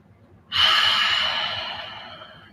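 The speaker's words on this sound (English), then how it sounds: "Deep cleansing breath out through the mouth anytime you need it." During a yoga flow, a single deep, cleansing breath goes out through the mouth, starting suddenly after a quiet pause. It is a long, loud, close airy exhale that slowly fades over about two seconds.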